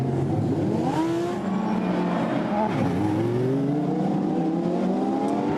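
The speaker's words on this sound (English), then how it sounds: "Now off go the cars on their formation lap, hoping everybody will go." Lamborghini Super Trofeo race cars pulling away together on a formation lap at Silverstone, a dense layered roar of engines revving and rising in pitch, near and loud throughout, with no talk over it.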